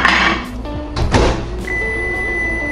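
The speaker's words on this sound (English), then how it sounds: "I'm going to put the plate in the microwave." A plate of beans and rice goes into a microwave oven: a clunk of the door and handling noises, then a steady hum as the oven starts running, close by with no talk.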